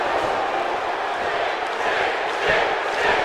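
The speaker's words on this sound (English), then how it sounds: "The crowd in Kansas are on their feet for the Icon as Sting got him with a tombstone pile drive" Steady roar of a wrestling video game crowd in WWE 2K18 cheering in a Kansas arena during an Iron Man championship match, a dense continuous wash of voices that swells briefly near the end.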